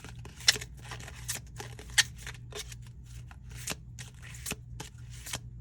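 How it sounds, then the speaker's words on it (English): A deck of tarot cards is shuffled close by, giving a steady run of crisp riffling snaps and soft slides with a few sharper card slaps, heard alone with no talk. "shuffling this deck with the Hermit that appears there first"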